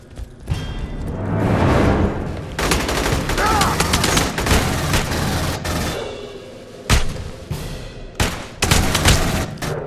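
Battle rifle fire in the video game Aliens: Colonial Marines, with rapid bursts of close, loud gunshots, booming impacts and whooshes amid chaotic combat noise.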